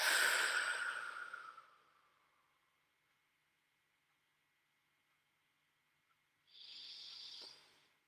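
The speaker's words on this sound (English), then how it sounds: "Deep breath." A slow, deep breath, a long airy inhale that fades into near silence, then a shorter breathy exhale some seconds later, close and soft.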